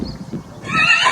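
A foal gives a brief, high, quavering neigh that swells near the end of a very short moment, close and fairly loud after some low muffled thumps.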